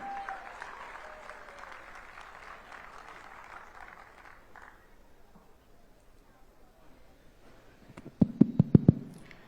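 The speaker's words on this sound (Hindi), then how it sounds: "जोरदार तालियों से स्वागत किया जाए दोस्तों अवनी लेखरा" An audience at a sports festival event applauds to welcome gold medalist Avani Lekhara, a steady clapping that fades out partway through. A few loud, sharp thumps near the end follow, and speech is heard underneath.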